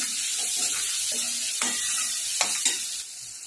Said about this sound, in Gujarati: અને મિક્સ કરી લઈશું